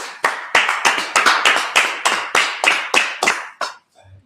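A gathering claps in a loose, fairly quick rhythm of distinct loud claps, about a dozen strong beats that stop abruptly near the end, with no talk over them.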